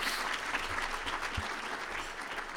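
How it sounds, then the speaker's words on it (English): Audience applause at a business hall of fame event, a steady, moderately loud patter of many hands clapping, fairly distant and even, with no speech over it. "give HL and Larry another round of applause"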